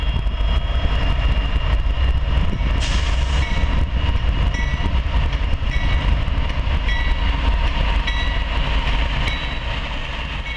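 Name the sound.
Norfolk Southern manifest freight train passing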